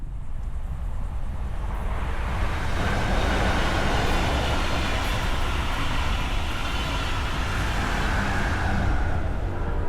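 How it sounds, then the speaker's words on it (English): A northbound four-coach Brightline passenger train passes on the Florida line, a loud rising rush of wheels and wind that swells and holds steady as it goes by close, with no talking. "And now a northbound 4-coach train wrapped for the Palm Beaches."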